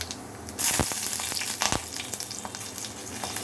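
Green chilies hit hot oil with fennel seeds with a sudden loud sizzle, then crackle and spit steadily, with a few sharp pops and stirring scrapes.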